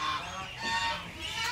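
Farm ducks quacking at an ostrich farm, a busy cluster of nasal honking calls close by, overlapping across the whole moment with a faint rural background.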